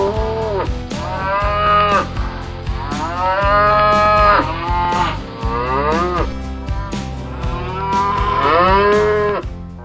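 Cattle being moved onto specialized trucks moo repeatedly, several long, loud, drawn-out calls overlapping one another over a low background rumble.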